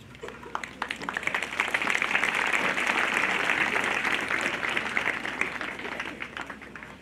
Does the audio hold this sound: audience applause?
yes